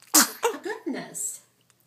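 A single close sneeze from a young child, sharp and loud at the start, followed by soft breathy vocal sounds as it trails off into quiet.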